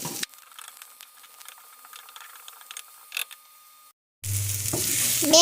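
Onion frying in oil in a pan for Jamaican ackee and saltfish, a faint crackle with clicking stirs, then a brief gap before a loud, dense sizzle takes over near the end, no talk.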